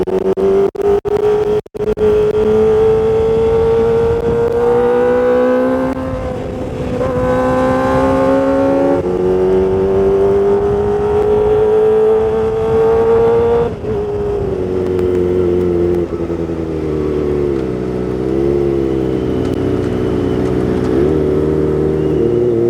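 Kawasaki ZX25R motorcycle accelerating hard on a test ride, its high-pitched four-cylinder engine climbing steadily through the gears with brief dips at shifts, loud and close throughout with no talking.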